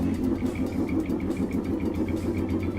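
Race car engine in the Gran Turismo Sport video game, an F1500 championship event, holding a steady droning idle with a faint pulsing rhythm, close and continuous throughout without any talk.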